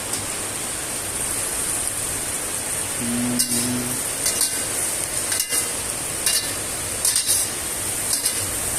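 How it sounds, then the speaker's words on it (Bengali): Sliced onions stirred and fried in oil with turmeric in a home kitchen, giving a steady, fairly loud hiss of sizzling broken by scattered scraping clicks of the spoon against the pan. "এভাবে পেঁয়াজটা একটু ভালো করে নেড়ে সিদ্ধ করে নেবেন"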